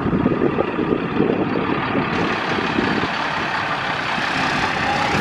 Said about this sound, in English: Foden entering the lorry meet now.